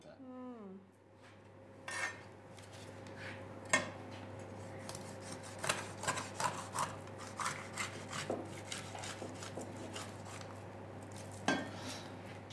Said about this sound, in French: Nous allons d'abord trancher la tête et lui retirer ses arêtes.